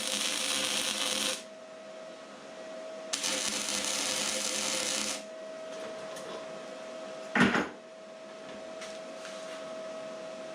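An amateur welder joins a latch handle onto a DIY steel bumper swing arm, giving two several-second bursts of crackling, hissing noise over a steady electrical hum, followed by a single close metallic clunk.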